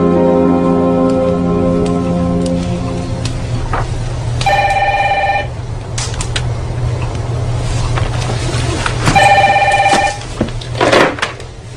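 A telephone rings twice in two clear, separated bursts over a steady low hum, loud and close, with no talking.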